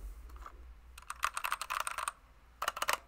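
Fingers tap and click on a computer keyboard that needs foam, heard up close in quick bursts of crisp keystrokes separated by short pauses.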